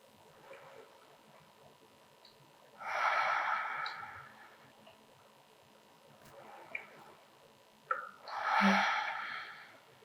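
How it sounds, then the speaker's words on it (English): Two slow, deep breaths during a beginner yoga session, each a soft, airy inhale or exhale heard alone and up close, with quiet pauses between them. "Take 3 deep breaths here."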